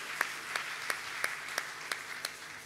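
Church congregation clapping during a service, a soft continuous patter of applause with a few sharper, evenly spaced claps standing out about three times a second, moderately distant.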